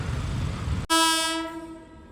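A passing train, a goods or express service, sounds a loud, sustained horn blast close by that cuts in abruptly over rumbling rail noise and slowly fades.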